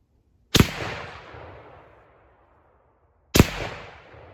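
Two unsuppressed rifle shots with 150-grain ammunition, a few seconds apart, each a sharp loud crack followed by a long rolling echo that fades out at an outdoor range.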